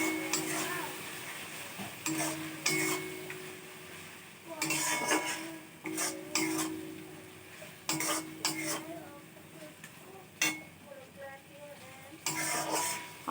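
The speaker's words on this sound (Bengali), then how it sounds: "এবার এটা একটু নাড়াবো এখন।" Ginger and garlic frying in a pan are stirred with a utensil, giving repeated scraping and clinking strokes in irregular bursts over a low, steady sizzle, close and moderately loud.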